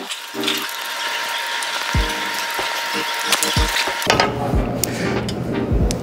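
Hand ratchet loosening the stop plate bolts on a log splitter cylinder, giving quick bursts of clicking between sharp metallic knocks, close up, with a voice partly audible in the background.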